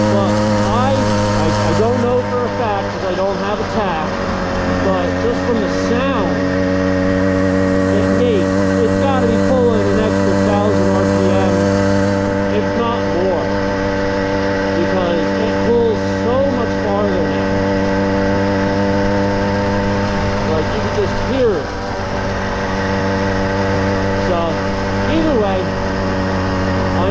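A 110cc motorized bicycle engine runs steadily during a ride, a loud continuous buzzing drone with shifting revs throughout, close to the microphone.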